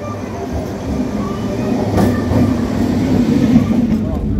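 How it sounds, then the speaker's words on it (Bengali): A suburban train rolls into the Dum Dum station platform on the Madhyamgram to Howrah line. It makes a steady, loud rumble that swells as it draws in, and faint voices are mixed into the noise. "ট্রেন আসছে, আমাদের ট্রেন আসছে।"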